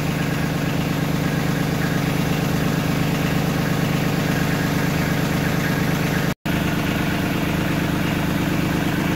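A Kubota LX2610 compact tractor idles at 1040 RPM, a loud, steady, close-up diesel drone with an even rhythmic throb, interrupted by a brief dropout near the end.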